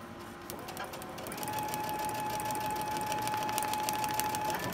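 A sewing machine stitches a paper-pieced quilt block in one steady, rapid run of needle strokes under a faint whine, close and continuous after a brief start, with no talking.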